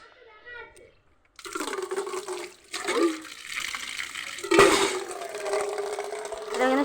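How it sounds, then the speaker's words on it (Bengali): Bottle gourd greens are washed in water in a bucket, with sloshing and splashing swells after a brief quiet start, one sharper splash midway, while someone talks over it. "তাহলে শাকটা ধুয়ে নিই।"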